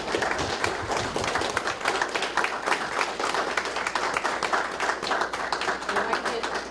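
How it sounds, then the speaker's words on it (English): An audience at a city common council meeting claps for a young honoree named Zoe. The applause is steady, fairly distant, and sustained for several seconds in a large room. "if you want to give Zoe a big round of applause."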